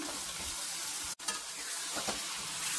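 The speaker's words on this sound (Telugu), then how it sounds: "ఈ ఫ్రై చేసుకున్న చికెన్ పీసెస్ని వేసుకుంటున్నాను." Fried chicken pieces sizzle in a pan with tomatoes and spicy masala, a steady close hiss of frying with a brief drop near the middle and stirring scrapes, no voices.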